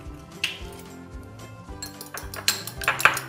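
Eggs are added one at a time amid kitchen dishware, giving a string of bright clinks and pings with a few louder taps near the end, close and fairly quiet, without any talk.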